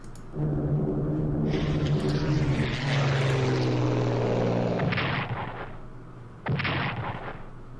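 Aerial bombing attack in the Strategic Command Allied 1939 World War II strategy game, with droning propeller aircraft engines and heavy explosions rumbling continuously, loud and alone, swelling again near the end.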